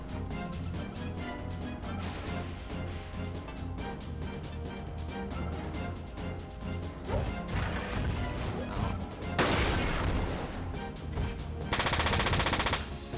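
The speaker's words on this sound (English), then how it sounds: "Couldn't hear you over the gunfire." Rapid automatic gunfire rattles through a Front Mission 4 mech battle, dense bursts of machine-gun fire mixed with heavy impacts and crashes, louder blasts near the end, no talk.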